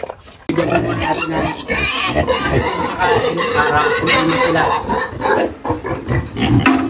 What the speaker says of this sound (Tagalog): Maglilipat naman po tayo ng biik sa kabilang kulungan at lumalaki na po sila.